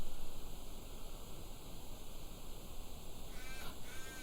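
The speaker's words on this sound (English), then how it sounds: "There's our crow." In the video game Forgotten Artifacts, a crow caws a few times near the end over a steady hiss of graveyard ambience, the harsh calls fairly close and brief.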